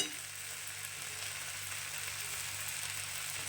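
Fried puti fish sizzles steadily in the pan as chopped coriander is added, giving a continuous close hiss with no talking.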